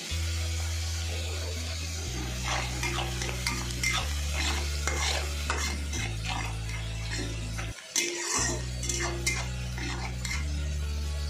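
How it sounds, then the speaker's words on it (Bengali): Onions frying in a pan for coriander chicken, a low sizzle under frequent stirring scrapes and clinks of a utensil against the pan, with steady tonal background music. "তাহলে ততক্ষণ পেঁয়াজটা ভাজা হোক।"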